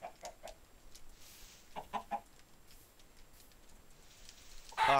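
Game chickens cluck in short separate bursts in Minecraft, heard faintly and unevenly against a quiet background, with a louder squawk near the end.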